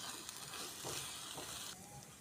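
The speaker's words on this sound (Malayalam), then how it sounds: "നമുക്ക് മുട്ട മെല്ലെ ഇളക്കി കൊടുക്കാം." Egg frying in a pan and being gently stirred, a faint steady sizzle with soft scraping touches throughout.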